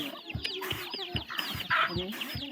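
Chickens at a rural home in Laos cluck and chatter nearby in a steady string of short, repeated calls over a busy outdoor background.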